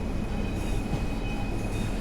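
A Class 142 Pacer diesel railbus in a train simulator game rumbles along the track, a loud continuous roar of wheels and engine with a faint high squeal, no talking.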